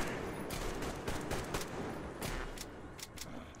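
Rapid, dense gunfire from a firefight in the video game Metro Exodus, with bursts of automatic fire and overlapping shots rattling on without pause for several seconds, loud and close.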